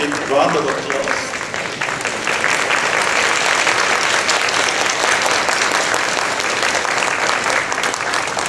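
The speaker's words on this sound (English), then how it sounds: "please give him a big round of applause" A lecture audience breaks into a big round of applause, loud and dense clapping that starts with a brief voice over it and then continues steadily for several seconds.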